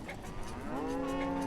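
Cattle moo in the village-building video game Banished, a single drawn-out low moo that rises and holds, heard alone and fairly close.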